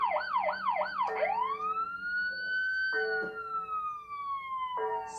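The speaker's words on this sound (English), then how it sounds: "You're going to hear the ding of the bell and the siren." Alert bell and siren from an earthquake monitoring feed during a magnitude 7.7–8.0 quake, a rapid wailing siren that shifts into a long rising tone, then sharp bell-like dings cut in, loud and alone.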